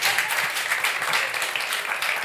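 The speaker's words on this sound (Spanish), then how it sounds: "un aplauso para Adri," Studio audience applauding a sound technician during a talk show segment about a book trilogy and its film: steady, dense clapping filling the whole moment, close and continuous with no voices.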